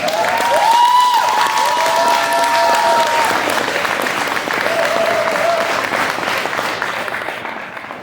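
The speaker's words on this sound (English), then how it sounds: "round of applause for the Corps' newest retired Marine" A chapel congregation at a Marine Corps retirement ceremony breaks into steady applause for the newly retired Marine, with a few cheers early on; the clapping is sustained and fades slightly toward the end.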